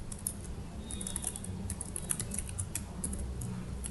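A computer keyboard is typed on in Excel, with Enter among the keys: soft, close, irregular clicks and taps over quiet room noise.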